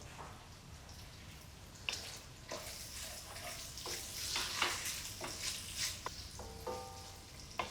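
Garlic and a bouquet garni sweat quietly in a pot for a lamb stew, a soft low sizzle broken by scattered clinks and stirring knocks.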